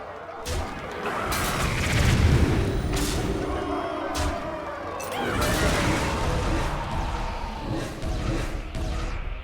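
A bomb explodes in Hearthstone Battlegrounds, with loud crashing booms and whooshing game effects that rise and swell, layered into a dense, sustained rumble.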